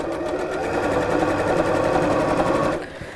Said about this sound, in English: I'm just going to make that a little bit round and sew across there